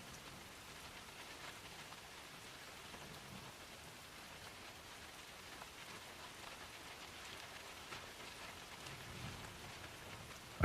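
Steady rain falls on a surface at night, a dense, even hiss of drops with no other sounds, continuing unbroken throughout.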